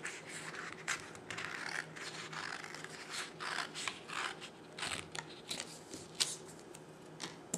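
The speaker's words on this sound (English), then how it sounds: "So just cut along your 1 inch scored line." Scissors snip through scored cardstock for a Stampin' Up! mini hand sanitizer holder, giving close, crisp, rapid cuts in an uneven run of sharp snips and paper crunches, with no talking.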